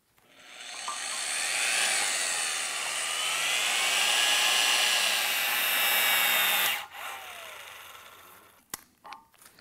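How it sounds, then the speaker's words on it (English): A torque gun set to 450 foot-pounds drives and tightens a bolt with a loud, continuous whirring whine for about six seconds, then cuts off, followed by a few sharp clicks. "we're going to take our gun, still set at the 450 foot-pounds, hold my finger on the trigger"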